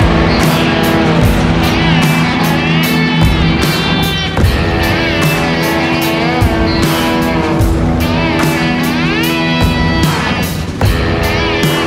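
A modern tractor engine drones loud and close from inside the cab while disking a field, a steady low hum broken by repeated clattering and knocking bursts throughout.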